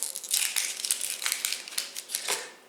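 Papery onion skin is peeled by hand, with close, dry crinkling and crackling in quick irregular bursts, the crisp rustles coming one after another with no talk.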